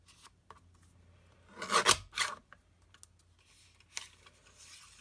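Scissors cutting paper diagonally for an origami desk tidy, two close crisp snipping rasps in quick succession, then a faint later snip in a quiet room.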